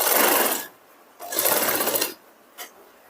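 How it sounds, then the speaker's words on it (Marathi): A sewing machine stitches a blouse seam along a curved shape in three bursts: a long run, a pause, a second long run, then a quick short burst, all close and loud with no talking. "अशा प्रकारे फिरवत फिरवत जसा शेप आहे त्याच्यानुसार फिरवत आपल्याला पूर्ण शिलाई इथं मारून घ्यायची आहे"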